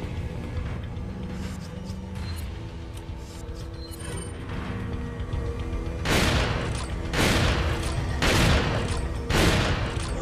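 Gunfire in the PS5 video game Resident Evil 4: after several seconds of low game ambience, four loud, booming shots ring out about a second apart, each with a short decaying tail.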